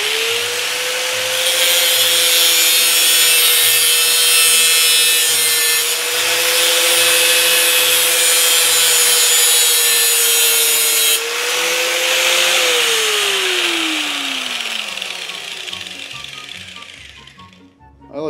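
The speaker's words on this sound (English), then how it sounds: "I like to use an angle grinder because it makes things look legit." Angle grinder cutting through a bicycle chain, a loud sustained whine that holds steady, drops briefly, resumes, then winds down and fades as the disc spins to a stop.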